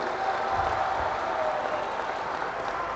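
Large outdoor political rally crowd in Palghar, Maharashtra applauding loudly, a dense sustained roar of clapping with cheering, steady and continuous throughout with no clear speech over it.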